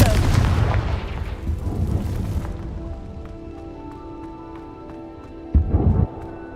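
A Confringo fire spell explodes in Hogwarts Legacy with a loud booming blast that rolls off into a fading rumble over steady game ambience, followed by a brief thud near the end.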